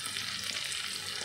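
Garlic and shallots frying in a pan make a brief, faint, even sizzle with no talking.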